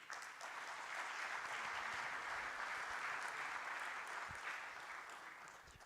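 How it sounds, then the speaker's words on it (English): Applause from a forum audience after an agreement signing on stage, a sustained, even burst of many hands clapping for several seconds, slightly distant and tapering at the end. "And let's give them a round of applause."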